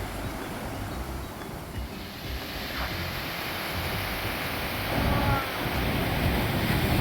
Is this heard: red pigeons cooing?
no